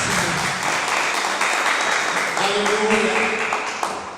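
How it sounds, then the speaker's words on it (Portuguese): A church congregation applauds steadily throughout, with the clapping continuing at an even level from start to finish and a voice briefly audible partway through. "Você pode aplaudir o Senhor."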